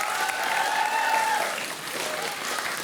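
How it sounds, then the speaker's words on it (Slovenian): Applause from the stands at a school quick-cups stacking competition, a steady dense clapping from a crowd that fills the whole stretch at even loudness, with faint tonal sounds in the hall above it. "Tudi za vas en aplavz z tribune"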